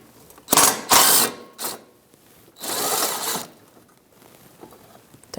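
A 10mm socket ratchet works on the support bracket bolts of a Jeep Renegade, making a few short, close bursts of clicking and whirring with pauses between them.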